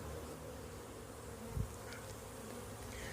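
Carniolan honey bees hum around an open hive in an apiary, a faint, continuous low buzz with one brief nearby thump midway.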